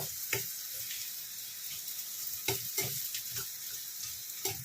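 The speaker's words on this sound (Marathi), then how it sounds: "आपण हे आपलं कांदा भाजतो आहे इकडे" Onion frying in oil sizzles softly and steadily in the background, while a utensil stirs and scrapes in the pan with a few sharp knocks scattered through.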